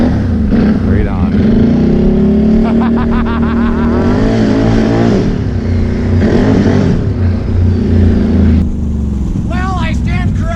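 An off-road vehicle on System 3 XM310 mud tires, a loud close engine roar that rises and falls in pitch as it drives, with speech mixed in.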